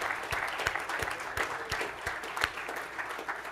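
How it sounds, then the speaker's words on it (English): An audience applauds after a talk about Jewish resistance and the musicians of Terezin, a fairly faint, even patter of many hands with a few louder individual claps standing out, steady throughout. "We need to applaud for Diane, because she's done so much work."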